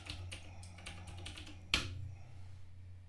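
Fingers type a login and password on a computer keyboard, a quick run of soft, close key taps ending in one sharper keystroke, then quiet.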